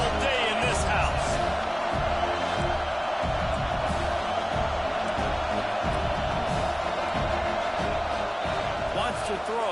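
Constant crowd noise fills a college football stadium in the NCAA 26 video game, a dense roar with rhythmic stomps and claps running throughout, loud and unbroken, with commentary voices over it.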